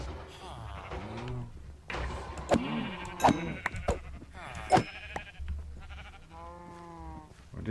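Sheep in the Minecraft modpack ATM 10 bleat several times in a wavering series, moderately loud amid game sounds, with a few soft thuds and a voice talking in places.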